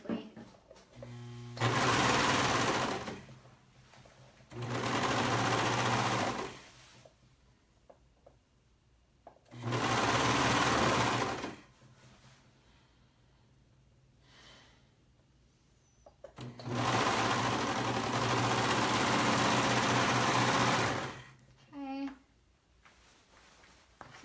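A sewing machine runs in four separate bursts of steady motor whir while stitching the side seam of an open-back pullover, with short pauses between runs and a person talking in the gaps.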